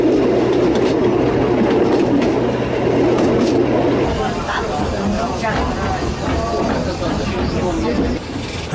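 A train on the Baie de Somme railway rolls into Noyelles station with continuous rumbling and rhythmic clickety-clack over the rails, loud and close, while a voice talks over it.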